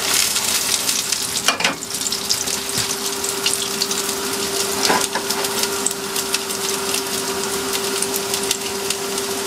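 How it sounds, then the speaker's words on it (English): English muffins toast in a pan on a stove inside a van, giving a steady, loud crackling sizzle with a constant background hum and a couple of brief knocks. "Right, quick muffins. They're toasting."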